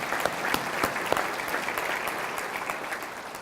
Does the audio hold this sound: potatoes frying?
no